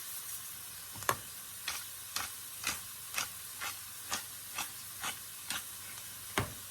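A spoon stirs bacon shrimp corn chowder in a pot, seasoned with smoked paprika, red pepper flakes, salt and pepper. About ten even scraping strokes sound at a steady rhythm over a soft hiss.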